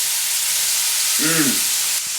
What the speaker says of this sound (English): I just love the smell of bacon and that sizzling.